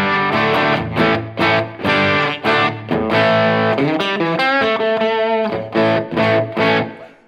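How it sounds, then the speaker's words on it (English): A Grote GT-150 thinline Telecaster electric guitar on its bridge pickup, driven through a Tube Screamer overdrive, plays a close, loud, distorted riff of chords and single notes with short gaps, without talk. "Tube screamer."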